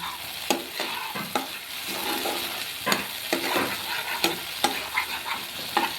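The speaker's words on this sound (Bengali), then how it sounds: "মশলাটাকে আমি ভেজে নিব।" Thick spice paste for potoler dorma (stuffed pointed gourd) sizzles and fries steadily in a pan, broken by sharp scraping stirs at irregular intervals.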